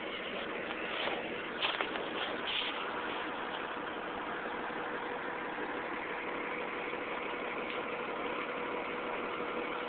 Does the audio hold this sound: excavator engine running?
yes